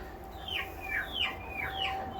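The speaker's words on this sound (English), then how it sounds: "we have 42 chickens, roosters, and 4" Chickens, roosters and turkeys clucking together inside a pen, a steady run of overlapping, moderately close calls over a constant low hum.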